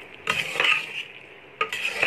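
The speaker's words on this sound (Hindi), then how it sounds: "मिक्स कर लेंगे अच्छे से।" Instant veg macaroni with chopped coriander being mixed in a pan: two brief bursts of scraping and clinking from a spoon against the metal, close up, separated by a quiet pause, with a faint sizzle and no speech.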